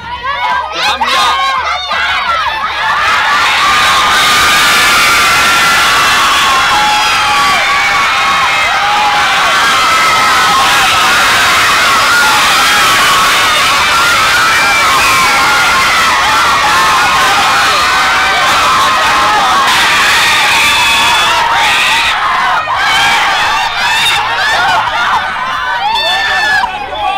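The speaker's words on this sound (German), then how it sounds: "der am lautesten Burger Pommes schreit und am meisten anfeuert" Loud crowd of children cheering and shouting a chant together at a giveaway shop event, a dense continuous roar of young voices throughout.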